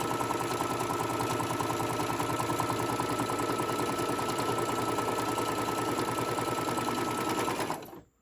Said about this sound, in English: Now, you just kind of hold it and sew all the way down.